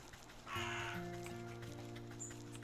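A crow caws in a video game, a single harsh burst over steady game music and ambient drones.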